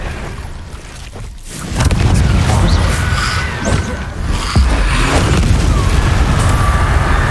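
The Incendio fire spell in Hogwarts Legacy erupts as a loud, booming burst that swells into a sustained, roaring blast of flame filling the whole moment.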